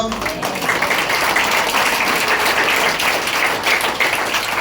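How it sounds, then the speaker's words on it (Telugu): A church congregation at a Sunday worship service in Vijayawada bursts into steady, dense applause that fills the room and holds at an even level for several seconds. "అందరూ ఒకసారి చప్పట్లు కొడతారా?"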